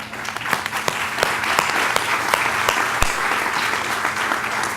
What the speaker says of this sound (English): There's going to be a lot of applause tonight